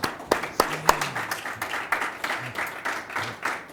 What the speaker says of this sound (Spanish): Yo propongo que nos demos un aplauso